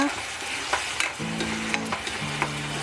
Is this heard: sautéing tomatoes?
yes